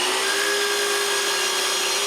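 A power saw makes a straight cut through walnut, a steady, close, whining hum with a sustained tone and no pause or speech.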